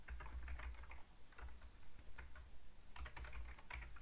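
Someone types in bursts on a computer keyboard, clusters of close, crisp key clicks separated by short pauses, with no voices.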